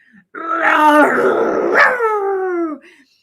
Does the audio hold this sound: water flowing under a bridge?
no